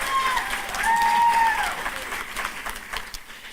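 Audience at a commencement ceremony breaks into sustained clapping, a loud, dense applause with a whistle-like tone rising over it.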